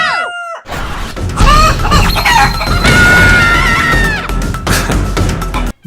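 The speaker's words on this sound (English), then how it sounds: "a random chicken appears out of nowhere with a menacing glare" Loud chicken squawks and clucks, with a crowing-like cry, burst out sharply amid chaotic crashing noise, dense and close throughout.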